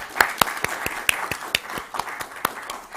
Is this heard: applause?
yes